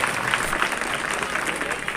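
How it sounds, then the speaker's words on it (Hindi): Steady applause from an audience at a folk performance, a dense, continuous patter of clapping with crowd noise that stays fairly even and loud throughout. "तो ताली बजा के बताओ"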